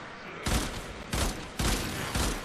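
Gunfire from the video game Warframe comes as four loud bursts of rapid shots, each about half a second long, separated by brief gaps.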